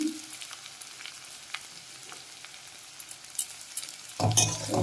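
Ginger and garlic paste hit a hot pan, faint crackling sizzle with scattered pops, swelling into a louder burst of frying near the end as the paste goes in.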